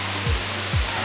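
The Putri Kayangan waterfall, a three-tiered fall with fairly strong flow, gives a steady broadband rush of water, close and continuous, with two brief low thumps.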